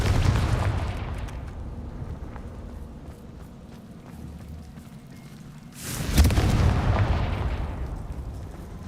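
Bombarda and Confringo spell blasts in Hogwarts Legacy, a booming explosion fading into a long rumbling tail, followed a few seconds later by a second loud burst that decays more slowly.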